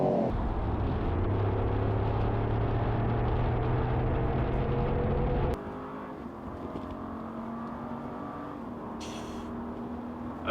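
Jeep Grand Wagoneer and Cadillac Escalade drag racing side by side, loud sustained engine roar under hard acceleration with rising gear tones, then a sudden drop to a lower, steadier drone as the engines pull away into the distance.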